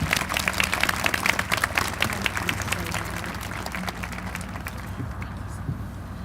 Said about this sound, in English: Let's congratulate these students with one last round of applause.